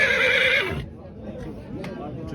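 A horse at a livestock market gives a loud, long whinny that fades out, followed by quieter market background with people talking.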